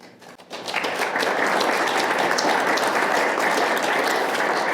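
Applause breaks out at a poet laureate reading after a poem, starting with a few scattered claps and swelling within a second into a full, loud, sustained ovation from the crowd.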